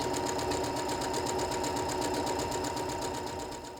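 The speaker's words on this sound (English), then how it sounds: "do a really good job aligning that needle so it starts right in that dot, and now you can sew to the end" Sewing machine running steadily to stitch a quilt block seam for a Lemoyne Star table runner, a continuous rapid mechanical whir close by, alone without talk, easing off at the very end.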